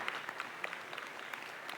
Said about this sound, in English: now's the time when you can applaud, and loudly so, for their participation